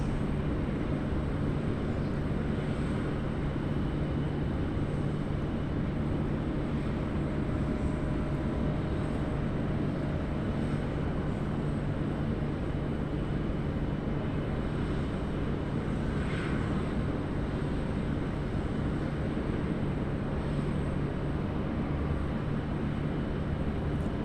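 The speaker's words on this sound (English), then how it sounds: "He'll be departing off runway 16 left." Airliner departing off runway 16 left at Sydney Airport, a steady broadband jet roar with a constant low hum, distant and sustained throughout with no talk.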